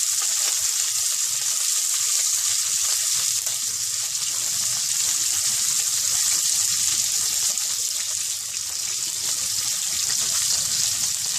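Green chilies and onions frying in ghee for a home-made vegetable biryani give off a steady, close hiss of sizzling that stays loud and even throughout, with nobody talking.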